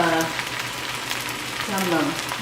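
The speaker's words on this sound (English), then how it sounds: "you're gonna stir fry this about 4 minutes or so" Food sizzles steadily as it is stir-fried in a hot pan, with a constant frying hiss and faint stirring. A voice is faintly present in the background.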